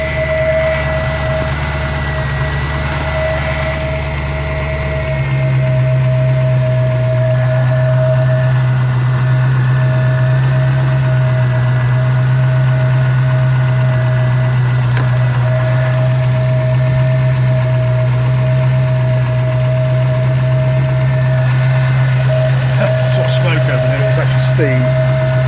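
A 1994 Range Rover engine idles steadily while warming up, with its loose distributor just adjusted. The hum is close and constant, and the idle pitch steps up after about five seconds.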